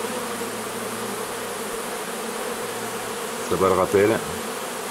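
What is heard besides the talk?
honeybee swarm flying into a Dadant hive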